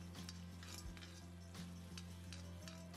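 Garlic and onion fry in sesame oil in a pan, giving a faint continuous sizzle with light stirring scrapes and a low steady hum beneath.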